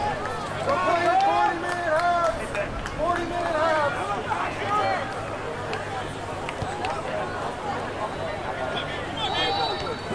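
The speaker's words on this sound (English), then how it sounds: "You can hear the crowd yelling at the refs that time is up." Sports crowd at a high school soccer match between NA and Cape Henry yells impatiently at the referees, a loud, continuous roar of many voices with scattered shouts throughout.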